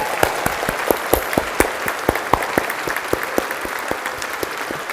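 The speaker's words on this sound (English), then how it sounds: "So give them a big round of applause." A church congregation at Bothwell Parish Church applauding, a steady run of sharp individual claps at moderate density from a fairly small crowd, close and without talk.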